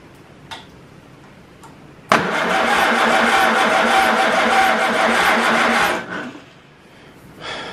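Farmall Super A tractor engine cranking over for a spark test, a loud, steady rhythmic chugging of the starter that runs for several seconds after a faint tick, then stops abruptly.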